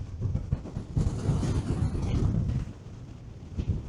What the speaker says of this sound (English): now the wind is strong enough to create white horses on the lake's surface